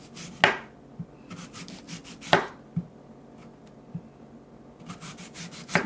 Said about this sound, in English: So we have an apple here, and I'm just going to cut it.